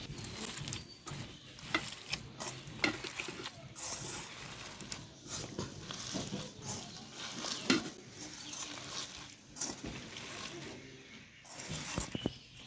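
Vegetables, potato and eggplant, are mixed and fried in oil for a village-style fish dish. Irregular scraping and clattering stirs come near and loud over a continuous soft sizzle.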